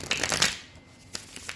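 A deck of tarot cards is riffled and shuffled close up, giving a quick burst of crisp fluttering card snaps, then a pause and a couple of lighter taps as the cards settle.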